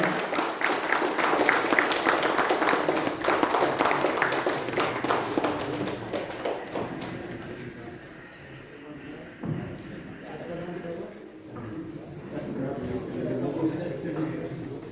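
Dense applause from an audience at a business training app launch event fills the first half, then thins into scattered claps as a voice speaks over the room.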